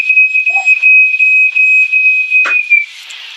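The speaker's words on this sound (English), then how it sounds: "And that was the fire alarm." A home kitchen fire alarm shrills with a loud, steady high-pitched tone in pulsing bursts, set off while bubble and squeak cakes fry in a pan, then cuts out abruptly near the end with a brief clatter.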